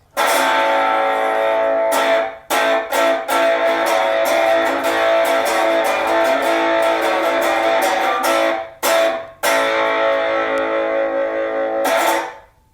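A thin, buzzy electric guitar plays repeated strummed chords through a toaster converted into a tiny, tinny amplifier, cutting off briefly between phrases before the strumming resumes.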